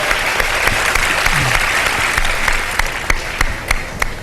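Studio audience applause on a Ramadan iftar television show, a loud steady wash of many hands clapping that keeps going, with a few sharper claps standing out toward the end.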